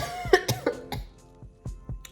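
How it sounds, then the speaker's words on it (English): Someone who is sick coughs in a rapid run of harsh bursts, then a few more spaced coughs trail off, heard close with no talking. "I actually needed to cough."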